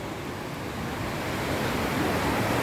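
Wahkeena Falls, a waterfall in Oregon, pours in a steady, broadband rushing roar that holds constant and grows slightly louder over the moment, with no voices.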